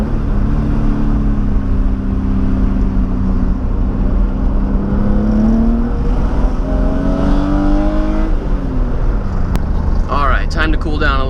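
A BMW M3 is driven hard along winding mountain roads, its engine loud and close, rising and falling in pitch as it revs through the gears without a break.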